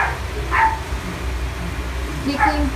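A dog barks twice indoors at a distance, brief sharp yaps separated by a second or so, over a low steady background hum while a person speaks.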